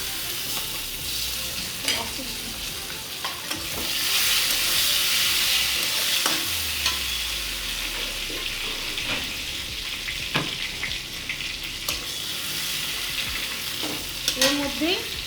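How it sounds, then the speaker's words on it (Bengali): Chopped tomatoes frying in a pan of oil for a mustard pabda fish curry, sizzling steadily up close, with a louder hiss as they go in and occasional scraping stirs against the pan. "এবারে টমেটো কুচোগুলোগুলো দিয়ে দিচ্ছি।"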